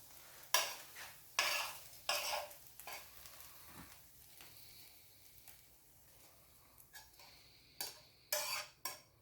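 Eggs and chorizo are stirred in a pan, with irregular bursts of scraping and soft sizzling amid quiet pauses, close up and fairly faint.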